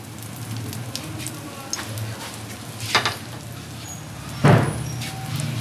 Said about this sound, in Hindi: इसको मैं फ्राई करूँगी बिल्कुल धीमी आंच पर